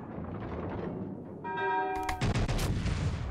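Battleship main-battery gunfire in the naval game World of Warships Legends, a loud booming salvo with a ringing tone followed by several sharp blasts in quick succession.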